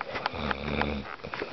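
A man snoring close by: one drawn-out, rattling snore breath, fairly loud and alone without any talk.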